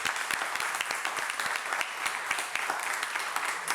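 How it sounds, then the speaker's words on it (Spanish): An audience breaks into steady, even applause for an economist speaker at a public talk, many hands clapping together close and unbroken, with no voices. "Un gran aplauso para Juan."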